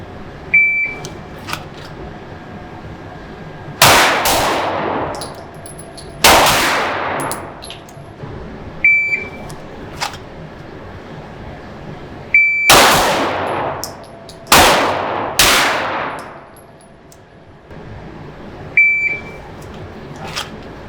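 Handgun shots ring out on a shooting qualification course, sharp loud single reports spaced several seconds apart, some in quick pairs, each followed by a short echo, with electronic timer beeps sounding before the strings.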